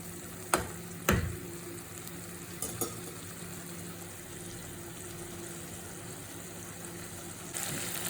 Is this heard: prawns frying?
yes